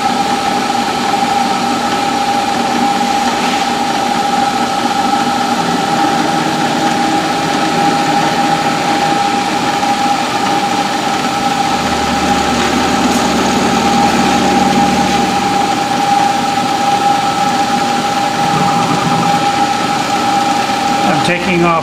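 A CNC mill running a Mach 3 G-code program cuts a model camshaft profile toward a 3/16 inch shaft, taking 20 thousandths per pass. The steady machine drone and a high spindle whine continue throughout, with a faint voice underneath.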